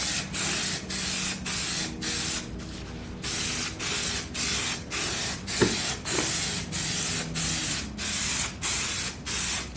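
An aerosol spray can hisses in a steady series of short, even bursts as it coats a Dodge Challenger car headliner, with a couple of faint clicks partway through.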